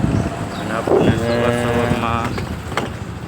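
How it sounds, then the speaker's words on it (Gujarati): A cow on a city street in Bhavnagar gives a loud, drawn-out moo close by over steady wind and street background. "આપણને ગાય માતાના દર્શન થઈ ગયા છે સવારમાં"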